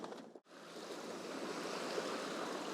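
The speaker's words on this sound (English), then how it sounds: "We are just swishing our way through the waves, really." Sailboat moving through a calm sea off the British coast, a soft, continuous broadband swish of water along the hull after a brief dip, fairly faint and steady.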